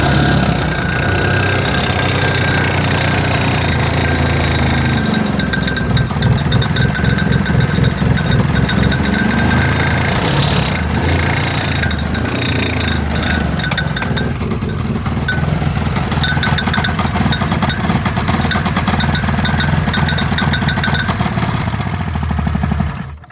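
A dump sled engine with a broken spring runs steadily and loudly after being given choke, its rough, knocking idle continuous close by with no talk.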